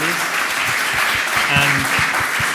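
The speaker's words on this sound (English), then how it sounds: "round of applause for our panel, please" Conference audience at a bilateral engineering summit gives the panel a round of applause, a loud continuous wash of clapping with a few voices mixed in underneath.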